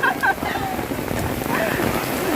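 Steady hiss of the first monsoon rain falling throughout, with a few faint voices and brief calls near the start.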